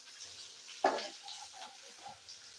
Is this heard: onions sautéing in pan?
yes